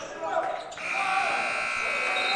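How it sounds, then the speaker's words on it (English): A basketball game buzzer sounds loud and sustained at the end of a quarter in a high school playoff game, cutting in over crowd noise after a brief bounce. "No good there from Swick at the buzzer"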